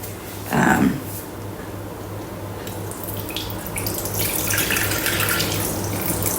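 Water runs from a tap into a Thermomix bowl, a steady splashing stream that swells briefly early on, then continues at a constant level with a low hum underneath.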